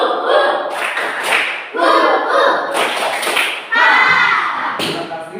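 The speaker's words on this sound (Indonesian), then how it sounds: "Sekali lagi tepuk semangat." Teachers in a classroom session repeat a rhythmic spirit clap, several loud bursts of group hand clapping in a set pattern, close and lively, interleaved with chanted voices.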